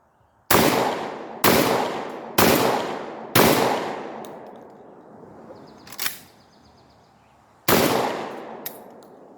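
A Lynx 12 AK semi-automatic shotgun fired as fast as possible, four loud close blasts in quick succession, a pause, then two more shots, each with a long ringing decay and metallic clicks of the action between.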